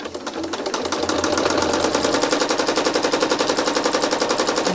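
A sewing machine quilting long, looping feathers into a King's Pawn quilt made from Twilight Chic fabric runs at steady high speed, its needle chattering in a fast, even rhythm, loud and close with no talk.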